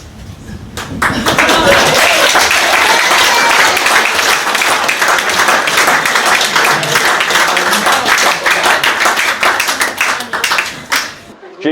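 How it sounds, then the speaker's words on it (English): Wedding guests burst into loud, sustained applause and cheering after a toast, dense clapping filling the room for about ten seconds before it tapers off near the end. "Please, can we have the biggest cheer and raise your glasses for my beautiful wife"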